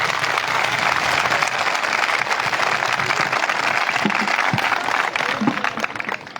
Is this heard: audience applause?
yes